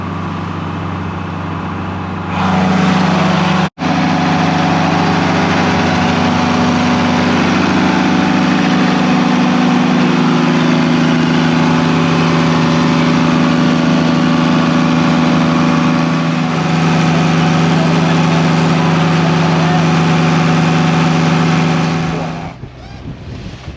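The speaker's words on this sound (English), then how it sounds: "The port engine, right now I have it just idling" A boat's port engine idles steadily and loudly with a deep, even hum that holds for the whole stretch before cutting out at the end.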